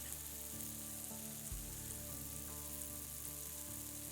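Sliced bologna browning in a hot pan, a steady loud sizzle and crackle that runs unbroken throughout, with a brief low thump partway through and no talking.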